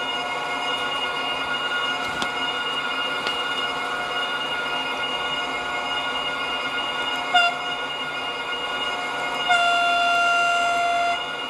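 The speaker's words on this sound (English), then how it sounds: "Very loud horns." A Roco 7510005 DCC sound model train in special livery drones steadily, then sounds its loud horns twice, first a short toot and then a longer sustained blast.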